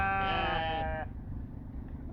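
A single sheep bleats loudly up close in Germany, a wavering cry that fades out, followed by faint outdoor background noise.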